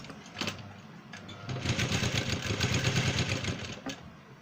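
Close, fairly quiet whirring of a sewing machine running a straight stitch in black thread down the middle of a canvas neck piece, a rapid even chatter for about two seconds between brief clicks and handling.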